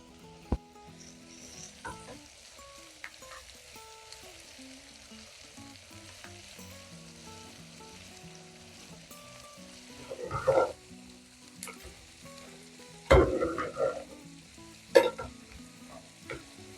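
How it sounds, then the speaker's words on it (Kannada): Chopped tomatoes hit a hot pan for mutton curry after ginger and garlic, sizzling softly and steadily, with a few louder stirring scrapes and clatters toward the end; no one speaks. "ಸೊ ಇವಾಗ ಕಟ್ ಮಾಡಿಟ್ಟಿರೋಂಥ ಟೊಮೆಟೊ ಹಾಕೋತಿದ್ದೀನಿ."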